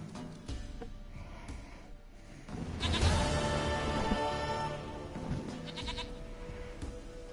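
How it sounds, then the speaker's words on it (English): A goat in The Witcher 3 bleats loudly and repeatedly at close range over a busy game backdrop, with a bright, wavering cry near the middle. "Goat of mine, dearest, sweetest goat."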